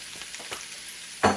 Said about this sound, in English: Now I'm finna apply and put my shrimp in my pan. And my butter and my olive oil are already there.